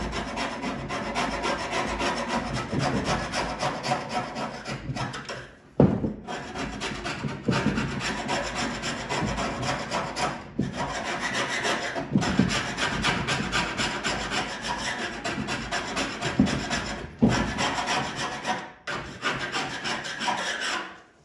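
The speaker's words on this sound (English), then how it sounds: "let me hit it with a scraper" A hand scraper works surface rust off a 21-window VW Bus, with rapid rasping strokes repeated continuously and close up, broken by a few short pauses.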